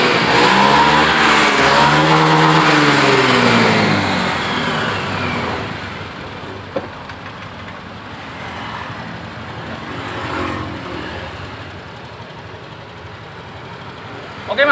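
A fuel-injected motorcycle engine starts and runs close by, roaring loudly with revving at first, then settling into a steady idle that continues for the rest of the clip.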